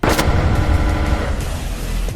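Automatic gunfire from a heavy-bullet rifle with an MG42-like fire rate in the tactical shooter Due Process, a loud sustained burst filling the whole moment with dense continuous reports and no talking.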